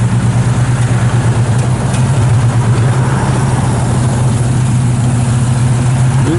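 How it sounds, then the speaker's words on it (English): A 1971 Chevrolet Nova SS with a 350 V8, 2.5-inch mandrel-bent headers and dual exhaust idles loud and close, a steady deep rumbling burble that holds evenly throughout with no talking. "Good sound, dual exhaust all the way out the back."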